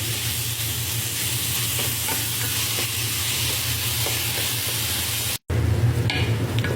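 Filipino-style ground meat giniling sizzles and fries steadily in a pan with occasional stirring scrapes, loud and close and continuous, broken by one brief cut near the end.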